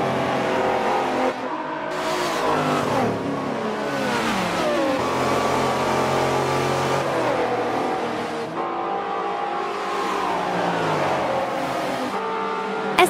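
Race cars in Forza 7 at Homestead roar past with rising and falling engine whines as they accelerate and shift, several engines overlapping loudly and continuously.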